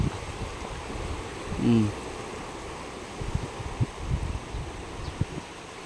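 A river swollen after Typhoon Nando in Abulug, Cagayan rushes past in a constant broad roar, with wind noise and a few brief voices in the background.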